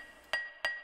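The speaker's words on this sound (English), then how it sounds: "I layered that on top of a glass sound" Two bright glass clinks, evenly spaced about a third of a second apart, each ringing briefly.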